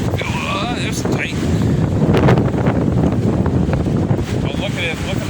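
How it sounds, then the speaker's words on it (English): Hard wind blows continuously beside open water during a windstorm, a loud, rushing roar that swells slightly midway, with someone speaking over it. "This is getting pretty hard, this wind."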